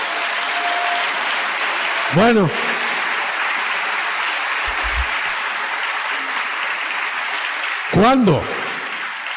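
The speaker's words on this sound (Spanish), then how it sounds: "Démosle un aplauso a ese reino" A congregation at a sermon on the messianic kingdom applauds loudly and continuously. A voice briefly speaks over the clapping twice.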